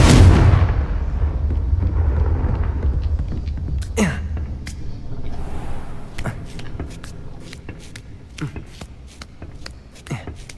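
The Confringo explosive spell in the Hogwarts Legacy video game, cast repeatedly: a loud rumbling blast opens, followed by a series of sharp fiery bursts and whooshes scattered through the rest, with footstep shuffles underneath.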